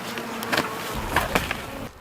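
Bees buzzing around an opened backyard hive, a soft continuous hum with a few louder passes close to the microphone.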